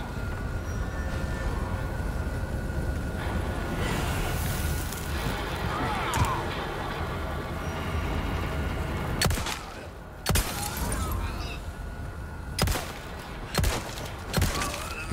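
Several sharp gunshots in Resident Evil 4 Remake crack out, scattered and irregular, over a constant rumbling background with some talking mixed in.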